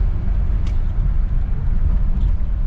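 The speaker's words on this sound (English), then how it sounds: "you get to go for a little ride in old Bel Air" A 1959 Chevrolet Bel Air drives along with a steady, loud low engine rumble and road noise heard from inside the car, constant and unbroken, with no voices.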